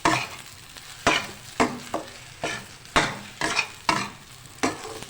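Semolina roasting in desi ghee for sooji halwa, stirred with a spoon: about eight distinct scraping strokes in a steady rhythm over a soft continuous sizzle, close and clear with no talking.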